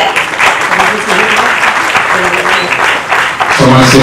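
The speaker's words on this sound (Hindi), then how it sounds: "तालियां बजती रहनी चाहिए।" An audience at a felicitation and book release event in Bhopal keeps up steady, full applause, with a voice speaking over the clapping throughout.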